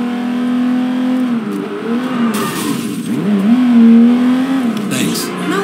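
A car in the video game Sleeping Dogs pulls away with a steady engine drone that rises and dips as it revs and accelerates, loud and close, with a brief voice heard over it.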